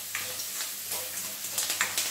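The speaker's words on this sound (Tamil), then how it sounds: "அதை வந்து நம்ம இப்போ போட்டு நம்ம வறுக்கலாம் கொஞ்சம் வந்து அதே அந்த கடுகு போட்ட எண்ணெயிலேயே" Seasoning sizzling in hot mustard-seed oil for lemon, curd and tamarind rice, a soft, steady crackle with scattered small pops and spits.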